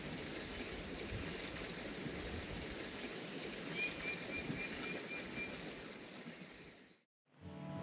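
A creek at a pine-forest campsite in New Mexico flows in a steady, broad wash of rushing water, continuous and moderately close, with no talk and a short break near the end.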